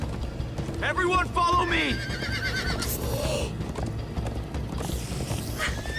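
Horses gallop and neigh in the Minecraft: Story Mode video game, with steady rapid hoofbeats under several loud whinnies and a person shouting over the ride.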